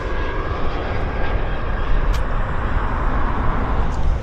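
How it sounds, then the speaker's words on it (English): Small Embraer jet airplane at Vancouver Airport, a steady broadband engine roar that stays loud and close throughout without voices. "Embraer. Baby Embraer."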